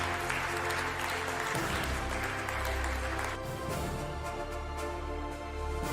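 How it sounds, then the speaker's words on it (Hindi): An audience applauds an award winner at a Harrison Locks India event, the sustained clapping mixed with loud, bass-heavy music playing throughout. "सर्वेश जी के लिए तालियां हो जाए"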